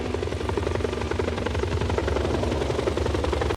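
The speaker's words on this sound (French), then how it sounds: "une palpitante poursuite hélico contre Jeep sur une autoroute hawaïenne" Helicopter in a film chase against a Jeep on a Hawaiian highway, its steady rotor thrum and engine drone loud and continuous throughout with no talk.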